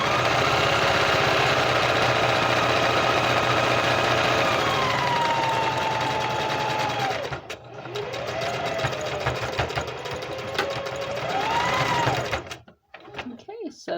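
A home sewing machine runs steadily while stitching a fabric Easter apron, its motor hum holding loud and continuous before easing into shorter, uneven bursts near the end, with a voice heard through much of it.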